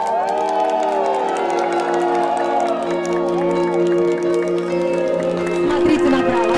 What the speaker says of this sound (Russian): Встречайте бурными аплодисментами!